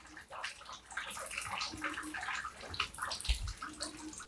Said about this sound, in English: you can hear some dripping in the background.